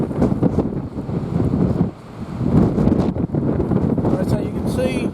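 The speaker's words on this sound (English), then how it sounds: "It's a bit windy outside today, so I might have to voice over this." Wind gusts roar steadily into an outdoor microphone, a heavy low rumble that swells and dips beside a ute camper body. It fills the whole stretch without letup.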